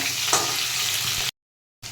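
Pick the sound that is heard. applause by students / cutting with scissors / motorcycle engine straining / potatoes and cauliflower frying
potatoes and cauliflower frying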